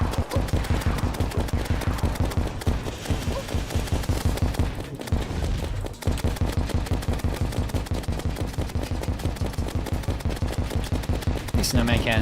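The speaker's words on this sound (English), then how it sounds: "The snowman cannon is pulling its weight." A snowman cannon fires nonstop in a video game, a rapid, evenly spaced barrage of punchy shots like machine-gun fire, briefly pausing mid-stream before resuming.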